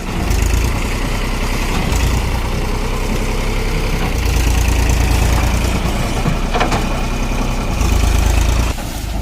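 A tractor engine runs steadily while uprooting coconut stumps, a loud continuous low rumble that swells and eases as the machine strains and reverses, with no voices over it.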